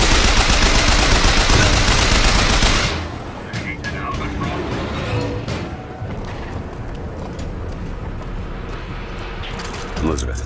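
Rapid gunfire from a Bioshock Infinite battle, a dense loud burst for the first few seconds, then scattered quieter shots and clanks, with voices shouting over the fight.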